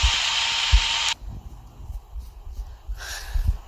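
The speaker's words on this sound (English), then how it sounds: "the Sprunkies decide to keep on sawing Black until they die" A cartoon sawing effect plays as a loud, harsh buzzing drone for about a second and then cuts off abruptly, followed by low thumps, rustles and a brief hiss at the end.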